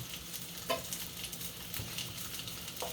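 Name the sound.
tablespoon of butter melting and sizzling in a pan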